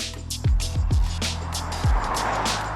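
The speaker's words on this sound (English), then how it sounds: "you can definitely hear a lot of road rush underneath the car" Road noise rushes beneath a Tesla Model Y Performance driven over scarred UK roads, a steady low rumble punctuated by several heavy thumps as the tyres hit bumps, with no talk.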